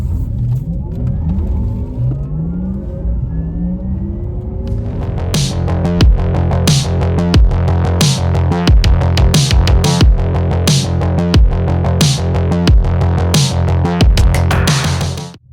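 Porsche Taycan Turbo S electric car speeding up hard, a smooth rising motor whine building in pitch while loud rhythmic music with heavy beats kicks in partway through and plays over it.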